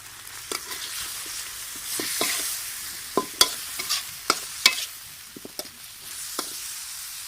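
Spicy eel stir-fried with curry paste sizzles in a pan, with sharp intermittent clacks and scrapes of a spatula over steady frying hiss, close and fairly loud.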